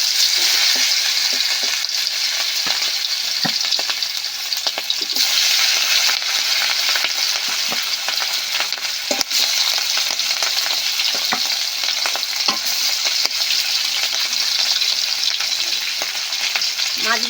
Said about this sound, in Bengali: মাছগুলো হালকা করে ভেজে নেব আর ইলিশ মাছে খুব তেল উঠবে